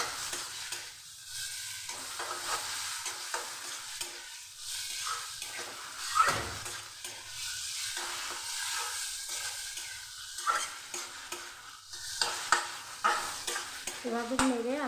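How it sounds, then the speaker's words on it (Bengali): Greens, potato and brinjal are stir-fried together in a pan, giving a constant hissing sizzle with repeated scraping and tossing strokes that come and go in uneven bursts. "শাক, আলু, বেগুন ভালো করে মিশিয়ে নিচ্ছি ভেজে ভেজে"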